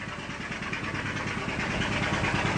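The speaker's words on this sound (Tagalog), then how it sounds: "isang makina lang po ang ating pinandar muna para tipid-tipid sa krudo" A single diesel boat engine runs aboard a mother boat, giving a steady, moderately distant chugging hum with regular low pulses, with no talk over it.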